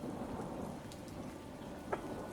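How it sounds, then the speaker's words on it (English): A rain and thunderstorm sound effect hisses steadily with dense falling rain and a low rumble beneath, plus one brief sharper crackle near the end, and no one speaking. "The rain that is coming down in sheets through this storm backs off to a light drizzle."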